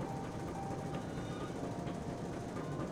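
Train ride in the horror video game White Shadows: a continuous, dense rumbling clatter of a moving train, steady and fairly loud throughout the short stretch, with no voices.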